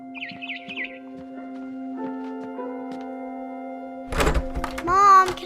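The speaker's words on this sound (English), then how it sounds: "Then I heard chirping outside my window." Birds chirp outside a window in the video game What Remains of Edith Finch, a few short tweets heard early over a sustained musical drone, followed later by a heavy thunk and a voice.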